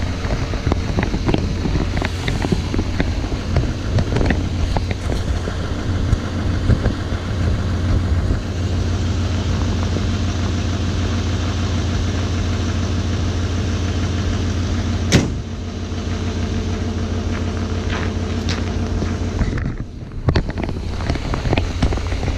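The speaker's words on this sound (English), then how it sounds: "that was my roughest and toughest cold start on my 2019 Chevy Silverado 2500 HD Duramax diesel" A 2019 Chevy Silverado 2500 HD Duramax diesel cold starting, its engine running as a loud, steady, rough low rumble with wind buffeting the microphone, then a sudden thump and a brief dip in the sound near the end.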